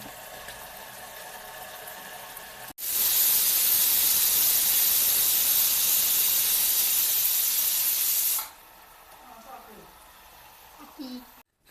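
A pressure cooker whistle releases a loud, continuous jet of steam for several seconds, starting abruptly and cutting off just as suddenly, with quieter room sound before and after.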